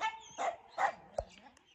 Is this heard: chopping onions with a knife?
no